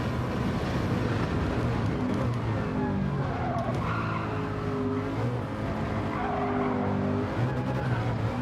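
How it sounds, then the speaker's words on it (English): Race car tires squeal and skid in Gran Turismo 7 as a car slides on worn tires, a continuous wavering screech layered over a dense engine drone for several seconds, loud and close. "His tires are slipping like crazy."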